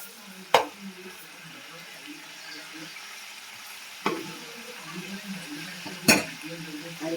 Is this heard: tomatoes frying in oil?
yes